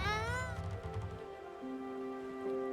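A cartoon cat meows once in the video game Spiritfarer, a short rising-and-falling cry up front, followed by steady sustained musical tones from the game's soundtrack.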